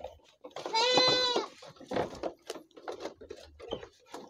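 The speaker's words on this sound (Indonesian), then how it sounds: "kambing kesukaan saya" On an Indonesian goat farm, a goat gives one loud, drawn-out bleat close by, followed by quieter shuffling and talk nearby.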